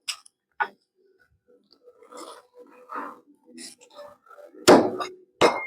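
A whole raw chicken being cut into pieces at home with a knife, with a few sharp chopping thuds and cracks spread apart, plus soft handling noises between them, close up and mostly free of talk.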